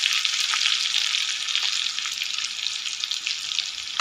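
Garlic fries in hot oil with a steady, close, hissing sizzle that holds evenly throughout, dotted with small pops and crackles.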